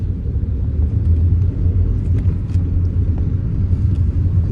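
A car travels along a road, its steady low engine and road rumble continuous and fairly loud inside the cabin, with no talk.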